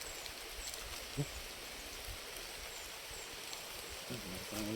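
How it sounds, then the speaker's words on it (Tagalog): Steady hiss of heavy rain pattering on surfaces, fairly faint and even, with a couple of soft thuds and a brief murmur of voices near the end. "malakas na yung ulan"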